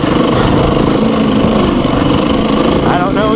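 A 2019 Beta 390 RR-S dirt bike revs hard in third gear off-road, its loud buzzing engine note steady and close, with a rider talking over it.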